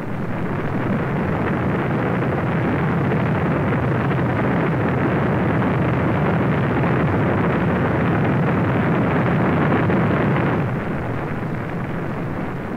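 Apollo 6 Saturn V rocket launching from the Kennedy Space Center in 1968, a continuous broad thunderous roar that stays loud and dense for the whole stretch with no voices.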